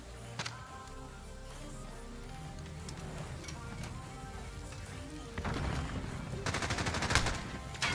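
Rapid gunfire rattles through a Modern Warfare multiplayer match, steady bursts of automatic shots throughout, growing louder and denser in the final seconds with sharp close cracks.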